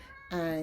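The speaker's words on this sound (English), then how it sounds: "So that's my cat meowing." A pet cat gives a single clear meow indoors, loud and close, a tonal cry that starts abruptly and holds steady without any talking around it.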